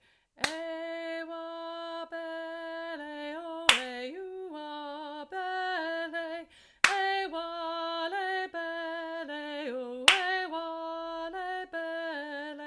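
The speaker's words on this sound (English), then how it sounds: "we're just going to do a clap on every first beat of the bar" Choir members give a single sharp clap on the first beat of each bar, four evenly spaced claps cutting through sustained chord tones that shift every few seconds.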